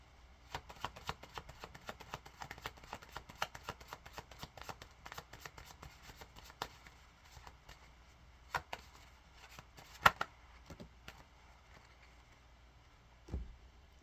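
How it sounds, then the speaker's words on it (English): Kipper cards being shuffled over and over, a steady run of quick riffling clicks and snaps up close, with a few louder slaps, and no talking. "give it one more shuffle with the Kipper"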